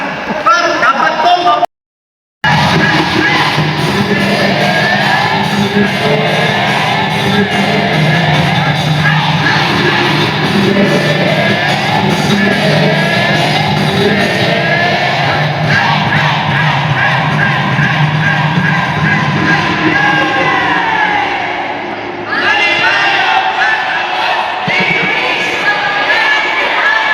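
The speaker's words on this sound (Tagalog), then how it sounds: "May palakpas po at sigaw." A crowd at an indoor gathering shouting and yelling continuously, loud and close, with a brief cut near the start, voices overlapping throughout.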